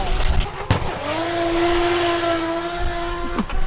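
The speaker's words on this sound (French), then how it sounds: "Ça là c'est des bagnoles de 1800 chevaux." Drift car at a drifting championship, rated at 1800 horsepower, with an engine note rising and holding steady as tires squeal, punctuated by sharp transients near the start and end, mid-distance and fairly loud.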